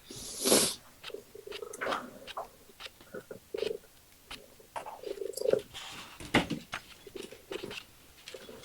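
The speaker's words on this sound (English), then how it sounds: "My gosh, those purrs." A cat purring softly up close, with scattered small clicks and rustles, quiet and intermittent, no talking.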